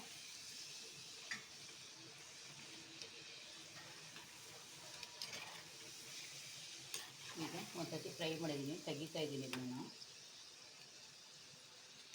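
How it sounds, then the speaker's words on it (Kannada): Potato fries frying in a pan, a faint steady sizzle throughout with a short burst of louder bubbling and stirring near the end; no talking. "ನಾವು ಆಲೂಗಡ್ಡೆನ ಎರಡು ಸರ್ತಿ ಫ್ರೈ ಮಾಡಬೇಕಾಗುತ್ತೆ"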